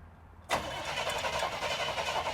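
A Chevrolet Chevelle engine left abandoned for 24 years cranks over after a short quiet moment, the starter churning loudly and steadily for about two seconds without catching.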